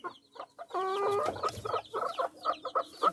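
A brooding hen in a coop gives close, repeated clucks in an uneven rhythm, with one longer drawn-out call near the start standing out above the rest.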